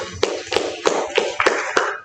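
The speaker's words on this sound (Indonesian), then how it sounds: "Tepuk tangan untuk murid" Applause for students at a teacher training session, heard as a small group clapping in slow, even unison, with about seven sharp, distinct claps spaced evenly and no talking.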